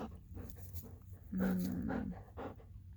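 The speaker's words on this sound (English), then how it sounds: "She's such a good dog. Bernese mountain dogs." A female Bernese mountain dog pants steadily up close, with a drawn-out whimpering whine rising in the middle before the breathing settles back into quick, soft huffs.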